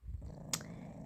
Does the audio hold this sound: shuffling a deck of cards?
no